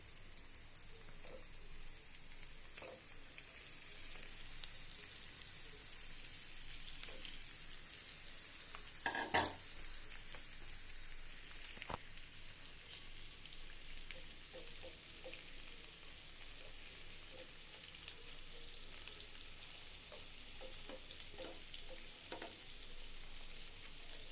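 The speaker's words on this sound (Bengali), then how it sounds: "এবার আমি মশলা মেখে রাখা সুরমা মাছগুলো দিয়ে দিচ্ছি" Spiced Surma fish pieces sizzle softly in hot oil with fried onion, garlic and green chilli, a faint continuous hiss broken by one brief clatter partway through.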